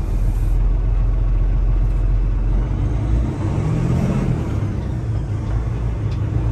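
Heavy truck engine rumbling steadily from inside the cab while driving, with a dip and change in engine note midway as gears are shifted.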